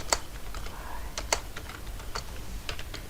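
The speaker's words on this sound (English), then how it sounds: "let me type a wrong number, 17" Keys tapped on a computer keyboard while a wrong number is entered into a spreadsheet cell, irregular clicks with a few sharper strokes, close and clear, no talking.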